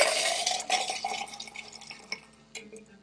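A cocktail is poured over crushed ice into a very large mug, a splashing stream at first that thins into scattered drips and trickles, close and clear, with no talking.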